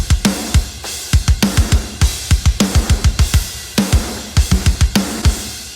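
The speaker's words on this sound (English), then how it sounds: "With a very epic snare decay." Mixed rock drums with a roomy snare and a long, epic decay; loud, close hits come in rhythmic bursts of rapid fills and grooves, each strike ringing out into room ambience.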